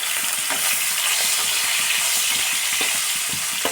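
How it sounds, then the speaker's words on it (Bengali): A small onion frying in hot oil with dried red chilli and panch phoron in a pan, giving a steady broadband sizzle with occasional stirring scrapes, close and continuous throughout. "আমি ভেজে নিচ্ছি পেঁয়াজটা"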